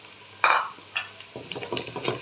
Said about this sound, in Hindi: अब इसको फ्राई करेंगे थोड़ा सा।